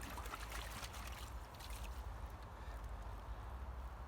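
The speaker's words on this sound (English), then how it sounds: "I just swill it in a bucket of water." Freshly pulled garden leeks swilled in a bucket of water, a steady close sloshing and trickling wash that runs continuously with no talk.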